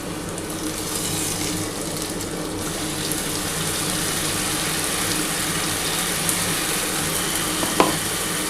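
Ground ginger, garlic, green chilli and tomato paste fries with browned onions for a Bengali prawn malai curry, giving a steady, close, even sizzle throughout with faint stirring scrapes and no talk.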